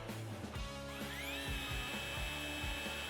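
A 40V 14-inch cordless string trimmer, model 2120902CA, spins up with a rising whine that settles into a steady high-pitched motor hum, running continuously and fairly close with no talking.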